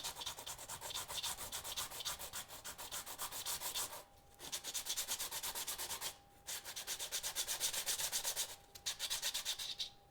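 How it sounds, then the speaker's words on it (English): Rapid, rhythmic rasping of sandpaper worked back and forth by hand on a plastic part, in three bursts separated by short pauses. "It shows that you just can sand it like this."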